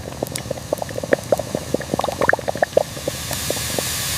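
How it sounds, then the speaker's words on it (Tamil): Herbal tea with ginger bubbling and popping at a rolling boil, close by, with irregular gurgles and plops over a steady low hiss. "இவை அனைத்தையும் சேர்த்து அந்த நிமிடம் நன்றாக கொதிக்க வையுங்கள்."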